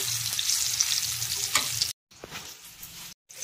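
Pieces of bitter gourd frying in a pan make a steady, close sizzle with a few stirring scrapes, and it cuts out briefly twice.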